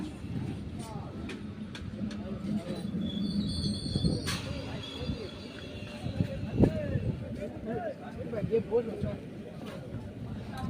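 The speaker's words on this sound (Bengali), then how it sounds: "তো চলো, ট্রেনটা ঢুকে গেছে দেখো।" A train bound for Lakshmikantapur pulls into a station, wheels squealing and grinding, with rolling rumble and metallic screeches throughout while people talk close by.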